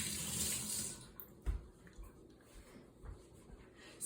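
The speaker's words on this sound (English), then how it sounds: "Gotta rinse my hand. That butter is slippery." Tap water running into a sink while a hand is rinsed of slippery butter, a close splashing rush that cuts off after about a second, followed by faint drips and small clunks.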